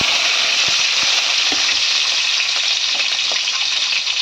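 Chopped onions sizzling in hot oil with fenugreek seeds in a village kitchen, a steady broad frying hiss with occasional soft stirring clicks and pops, no talking.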